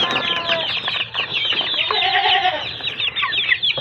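A crowd of farm ducks, some that escaped their fence in a rural countryside setting, quack and chatter continuously and close by with dense overlapping calls.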